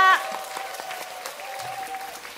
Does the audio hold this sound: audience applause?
yes